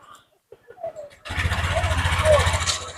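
An All New Honda Beat scooter engine cranks and catches after a few faint clicks, then settles into a steady, close idle that runs to the end.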